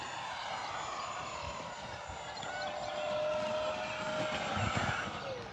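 An FMS Yak-130 radio-controlled jet with a 70mm electric ducted fan on 6S power runs at full throttle, a steady high-pitched whine that swells as it passes, fairly distant and moderately loud.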